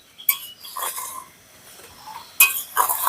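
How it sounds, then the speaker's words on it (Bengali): A metal spatula stirs raw green mango pieces in a pan for a spicy pickle, scraping along the bottom with a few soft clinks and scrapes in separate bursts, with quiet pauses between them. "আমটা যখনই এভাবে নাড়বেন এইরকম ভাবে নাড়তে হবে একদম নিচে দিক দিয়ে"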